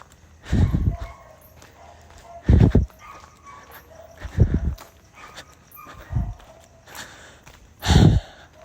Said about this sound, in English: Oh, there's dogs barking.